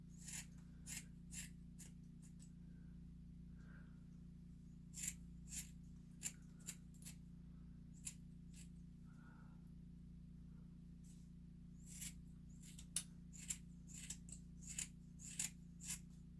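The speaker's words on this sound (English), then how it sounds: "So now I will take the scissors." Scissors snipping wire into a pine tree shape for a model western spruce, sharp scattered cuts, some in quick clusters, over a steady low hum, with no talking.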